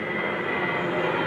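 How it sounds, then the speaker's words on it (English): A plane passes overhead near an airport, a steady, loud broadband engine roar filling the whole short moment with no voices. "Yes, that is a plane."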